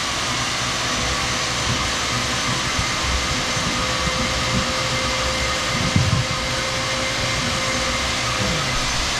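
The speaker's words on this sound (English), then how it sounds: "Might go ahead and vacuum that out." A vacuum sucks debris out of a trench cut into a concrete slab during kitchen plumbing work, a loud, steady whooshing drone with occasional rattling bits of grit, running alone without talk.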